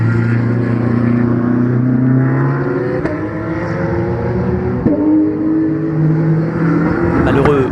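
Porsche race cars racing at the Nogaro circuit in France, engines droning loudly and steadily with rising and falling pitch as cars pass, under continuous French race commentary.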